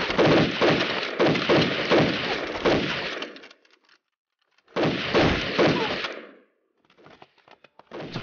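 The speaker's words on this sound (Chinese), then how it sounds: "怎么会有枪声？" Gunfire in a wartime drama about a Japanese army raid on an Eighth Route Army camp: dense bursts of shots in two long volleys separated by a pause, then faint scattered pops.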